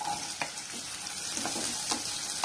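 Turnip pieces sauté in a pan with curry leaves, a continuous sizzle and frying hiss broken by occasional stirring scrapes and clicks, close and steady.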